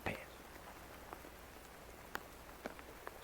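Raindrops tap against a camera lens outdoors on Monarch Pass, a few faint, sharp ticks scattered over soft wind and ambient noise.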